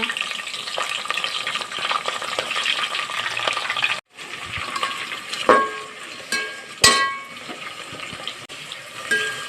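Curry leaves drop into hot oil in a home kitchen alongside onion, giving a steady close frying sizzle with a brief break and a few sharp crackling bursts toward the end.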